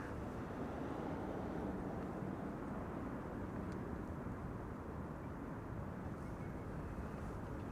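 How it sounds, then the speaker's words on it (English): An Air Canada Boeing 787-8 Dreamliner jet airliner gives a steady, broad roar that holds at an even level throughout, dense in the low and middle range with no voices. "Air Canada flight 901 to Montreal. 7878 Dreamliner"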